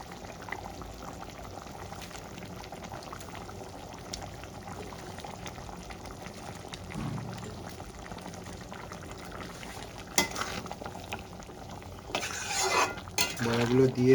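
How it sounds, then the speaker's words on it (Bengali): Curry broth of egg and potato boiling in a pot, giving a soft, steady bubbling that stays fairly faint throughout, with a few clinks of utensils near the end. "ঝোলটা আমার ফুটে গেছে।"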